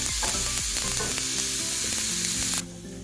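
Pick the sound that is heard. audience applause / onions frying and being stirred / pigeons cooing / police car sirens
onions frying and being stirred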